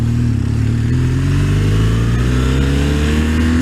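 A 2016 BMW R1200RS motorcycle pulls away hard in first, its engine note climbing, then briefly dips as it shifts into second and rises again, loud and close without any talk.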